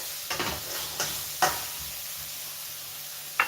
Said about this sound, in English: the perfect spatula, because I can actually spin and stir